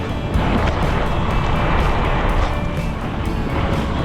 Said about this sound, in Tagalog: Sabay na tayo sa traffic.